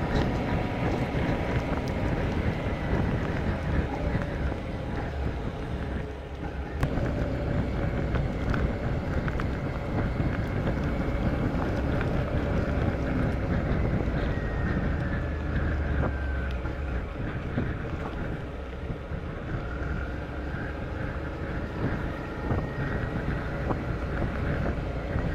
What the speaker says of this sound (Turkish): Rüzgar da kuzeybatıya döndü. Karşımızdan esiyor